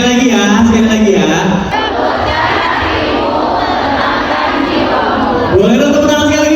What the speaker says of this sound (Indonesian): Boleh dong tepuk tangan sekali lagi buat kita semua